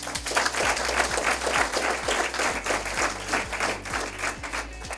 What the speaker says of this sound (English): they do deserve a big round of applause